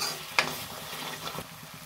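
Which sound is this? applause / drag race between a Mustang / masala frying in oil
masala frying in oil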